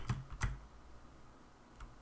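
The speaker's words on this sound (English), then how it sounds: "My apologies if you can hear my keyboard, by the way." Computer keyboard keys tapped right beside a microphone, two quick close clacks followed by a fainter third keystroke after a pause, with no talk.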